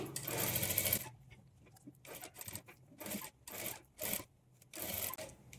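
A sewing machine stitching the folded lining of a boat neck net blouse, running in a loud burst and then in several shorter runs separated by brief pauses, close by with no talking.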